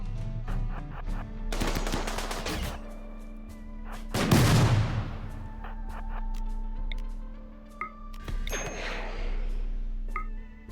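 Gunfire in the RimWorld video game, bursts of game weapon shots with a big blast around the middle, set over a steady background soundtrack.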